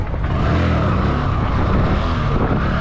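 A motorcycle engine roars close and loud as the rider opens the throttle to lift into a wheelie. The drone holds fairly steady for a few seconds with no voices.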